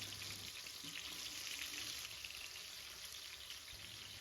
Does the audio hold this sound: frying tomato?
yes